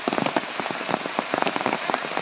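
Heavy, incessant rain falling steadily across the whole moment, dense patter of drops on surfaces at moderate loudness, with no voices.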